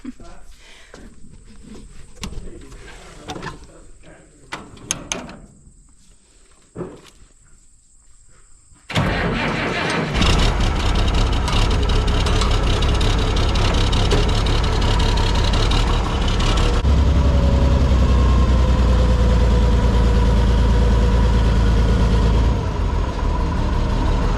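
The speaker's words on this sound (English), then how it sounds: "Can I get on my favorite tractor?" Quiet talking and clinks give way to a loud tractor engine starting up, then rumbling steadily at close range, its low drone growing heavier.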